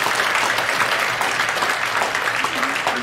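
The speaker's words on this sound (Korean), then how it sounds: "박수 한번 치겠습니다" A congregation at a Friday all-night church worship service, interpreted in sign language, claps together in a loud, sustained round of applause that fills the whole few seconds without pause.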